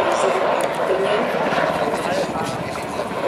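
A UH-60 helicopter at the NATO Days air show, its rotor and turbine a loud, steady throbbing roar that persists under continuous commentary from someone speaking over it.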